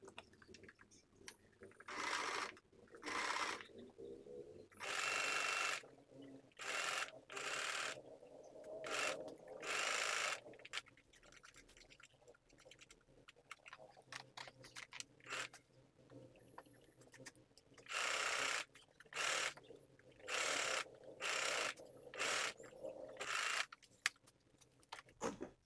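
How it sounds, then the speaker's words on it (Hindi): A domestic sewing machine stitching a blouse neck, running in repeated bursts of rapid mechanical whirring separated by short pauses, close and moderately quiet, with no voices. "अब हम इसकी सिलाई शुरू करें।"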